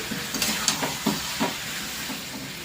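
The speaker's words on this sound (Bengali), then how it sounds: "নুন হলুদটা দিয়ে ভাজবো একটু," Salt and turmeric frying in a pan in a home kitchen, a steady low sizzle broken by several soft stirring scrapes spaced through the stretch, moderately close with no voices.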